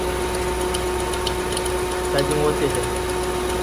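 A car engine idles steadily during an air-conditioning check for a refrigerant gas leak, a constant low mechanical hum beneath someone talking.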